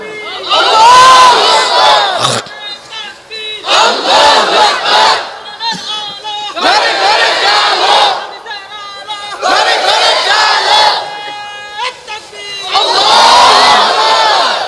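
Large crowd at a Bangla religious sermon answering a preacher's takbir call with loud, repeated collective shouts in several bursts, mixed with cheering and voices.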